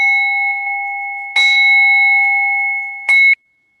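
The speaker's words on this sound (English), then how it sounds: "I'm going to chime us out of our meditation." Meditation chime rung to close a meditation session: a clear sustained metallic tone, struck again twice with bright attacks, ringing steadily alone before cutting off.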